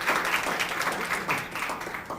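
Moderate, fairly distant applause from a college education event audience, steady scattered clapping throughout the short stretch.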